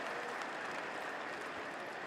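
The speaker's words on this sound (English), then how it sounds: "Another big cheer rings around Lords as Anderson throws the ball back again." A crowd at Lord's cricket ground during an England v West Indies Test match cheers and applauds, a steady, fairly faint roar of distant voices and clapping with no distinct peaks.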